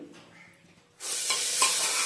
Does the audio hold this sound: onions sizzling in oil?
yes